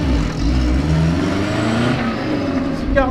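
A Peugeot 404 car engine runs and pulls away, a low, steady motor rumble that swells slightly near the end.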